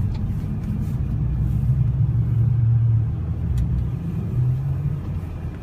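A 1995 car rolling on winter snow tires in snow mode, a steady loud low road rumble and engine drone that swells slightly midway and continues unbroken, with no talking.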